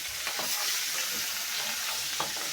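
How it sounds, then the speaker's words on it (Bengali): Small sarpunti fish (river puti) frying in oil in a pan, a steady loud sizzle running throughout with a few brief crackles and pops, no voices. "এই যে দেখুন মাছগুলো ভাজতেছি"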